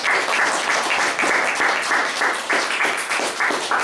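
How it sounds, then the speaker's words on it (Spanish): Loud, lively applause from a church congregation, many hands clapping in uneven rhythmic bursts that fill the room, close and sustained with no talking over it. "Denle un aplauso grande a esta palabra del Señor"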